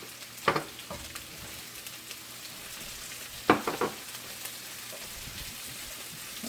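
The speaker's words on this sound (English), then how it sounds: "And we just have to cook the shrimp" Shrimp fry in a pan with a quiet, steady sizzle, broken by two brief bursts of scraping and stirring, with no talking.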